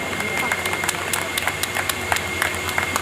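An audience claps and cheers after dance performances at a senior citizens' Holi festival gathering. Dense, steady applause sounds close and loud throughout, with crowd noise mixed in.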